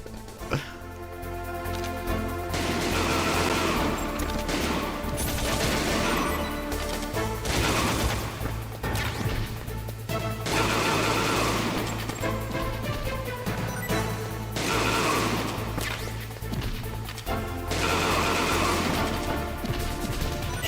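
Gunshots and crashing impacts fill a Metal Gear Solid fight, forming a dense, loud, continuous clatter of shots and smashes over a steady low rumble with no talking.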